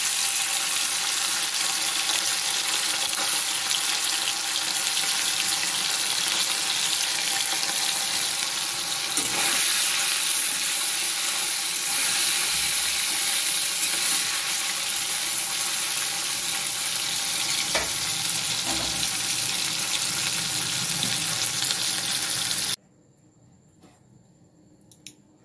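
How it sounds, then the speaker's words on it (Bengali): Small mourala fish fry in hot oil in a kadai with a loud, continuous sizzle heard close up for over twenty seconds. Faint stirring clicks sit under it, then the sound cuts to near silence at the end. "তেলটাকে ভালো মতো গরম করে মাছগুলোকে দিয়ে দিচ্ছি"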